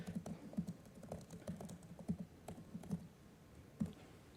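Someone types a reply on a computer keyboard. The keystrokes are soft, close and irregular, and they run in short bursts over a quiet room.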